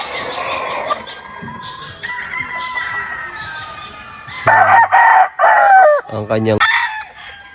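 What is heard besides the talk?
dirty doom gamecock crowing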